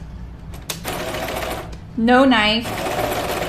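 A sewing machine stitching the hem of a knit dress, a rapid mechanical whir running close and steady, with a person speaking briefly over it.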